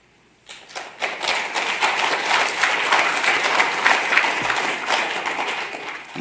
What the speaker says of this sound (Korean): 손들고 박수해보라요